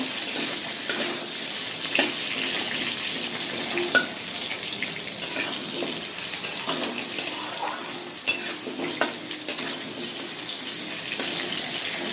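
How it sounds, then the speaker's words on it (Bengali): Potatoes frying with green chilies keep up a loud, continuous sizzle and crackle, with frequent scraping stirs and light clinks of utensils against the pan. "আলুগুলোকে আমি লাল করে ভেজে নেবো"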